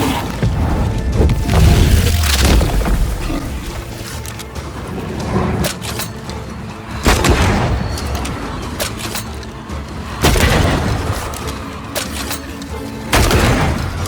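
Heavy gunfire and booming blasts in the video game Banishers: Ghosts of New Eden, loud bursts recurring every few seconds over a dense rumbling battle din, with no talk.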